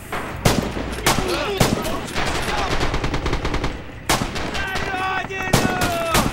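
Rapid bursts of gunfire crack loudly in quick succession in the video game Red Orchestra 2: Heroes of Stalingrad, sharp repeated shots with a few heavier blasts, synthetic and close.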